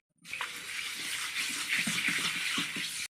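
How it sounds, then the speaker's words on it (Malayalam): Washing an iron kadai with dish wash at a sink, running water and wet scrubbing filling the clip with soft scraping strokes underneath, steady and close. "നന്നായിട്ടൊന്ന് ഉരച്ച് കഴുകിയെടുക്കാം."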